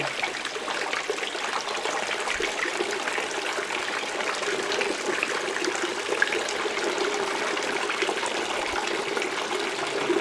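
A battery-powered pump runs water through gold dredge concentrates with a continuous, even splashing and trickling flow, close by and unbroken, with no talking.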